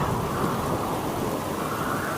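A heavy thunderstorm used as a presentation sound effect: dense, steady rain hiss with a continuous low rumble of thunder, loud and close, with no voices.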